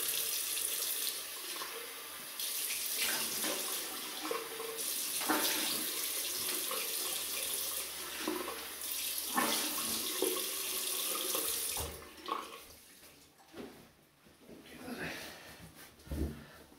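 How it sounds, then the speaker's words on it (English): Tap water runs steadily into a sink for a quick rinse after a wet shave with a Merkur safety razor, a continuous close splashing flow for about twelve seconds before easing off into quieter drips and handling. "So, just a quick rinse off."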